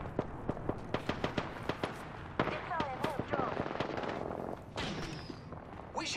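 Gunfire in Apex Legends crackles as a string of sharp single shots and rapid bursts. The shots are close and distinct, and a game voice speaks alongside them.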